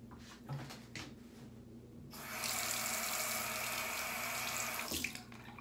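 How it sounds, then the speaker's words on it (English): Running water from a sink tap while a washcloth rinses face wash off, a steady close hiss that starts abruptly after a quiet stretch with faint handling sounds and cuts off near the end. "then I will rinse off my face wash with a washcloth"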